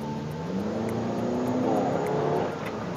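Mitsubishi Grandis engine revving up under acceleration, a steady rising drone that swells mid-clip then eases slightly, heard from inside the car with no talk over it.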